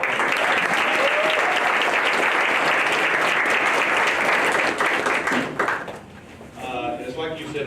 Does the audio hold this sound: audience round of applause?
yes